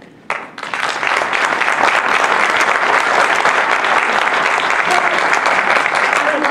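Sustained audience applause fills a hall at a Somerset County, New Jersey freeholder candidates' debate, starting abruptly after a brief pause and holding steady and loud throughout, dense clapping from many hands.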